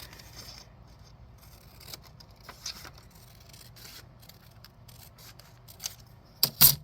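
Scissors cut a strip of paper for a handmade junk journal, giving a few faint, sparse snips and scrapes in a quiet room, with two sharper cuts close together near the end.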